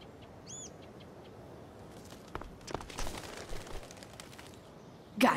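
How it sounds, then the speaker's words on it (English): In the video game Life Is Strange: Before the Storm, a bird gives a brief, faint chirp at the start over quiet ambience, followed by soft rustling steps and a sharp thump at the end. "If I can scare that bird far enough away"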